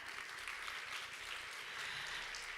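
A steady wash of audience applause greets the host taking the stage at a science-and-art festival's K-fashion technology showroom session. The dense, even clapping is fairly soft and distant, with no voices over it.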